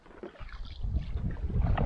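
Blustery wind rumbling against the microphone on a kayak trip, rising in strength over a couple of seconds, with faint water sounds.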